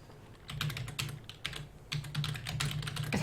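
Rapid, irregular keystrokes on a computer keyboard while coding during a game jam: close, crisp clicks in quick bursts and short pauses over a steady low hum, with no talking.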